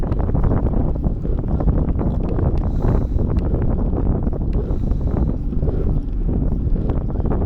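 Rushing wind buffets the microphone during a bicycle ride near the old royal villa at Doi Tung, a loud, unbroken roar that fills the whole stretch.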